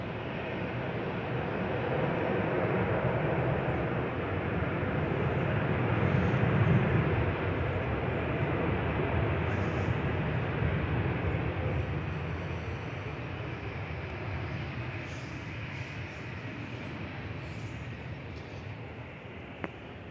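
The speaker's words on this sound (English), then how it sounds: "Delayed Qatar from Doha just touching down now." A delayed Qatar Airways Boeing 787-9 Dreamliner, registration A7BHQ, touching down at Manchester Airport after a flight from Doha, its steady broadband engine roar sustained and fairly distant, swelling slightly mid-landing, with no talk.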